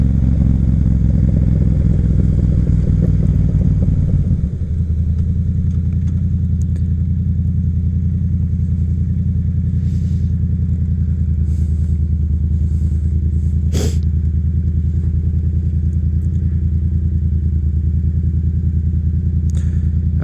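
A Yamaha FZ07 motorcycle cruising on the highway, its engine droning loud and steady with heavy wind rumble; the pitch drops after a few seconds as it shifts, then holds level, with a few faint clicks and no talking.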